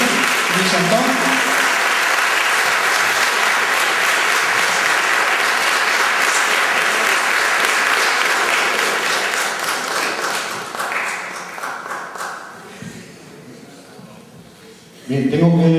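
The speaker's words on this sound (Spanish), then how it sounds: "Aplausos." Sustained audience applause at the closing awards gala of the fifth Asturian Film Festival, loud and dense for about ten seconds, thinning and fading toward the end before a voice begins.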